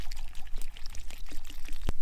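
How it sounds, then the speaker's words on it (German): Water poured from a container into a pot of potatoes set over a campfire, a short splashing pour running steadily for about two seconds outdoors, with a brief sharp knock near the end. "Wenn wir jetzt auch noch ein bisschen Wasser reinleeren."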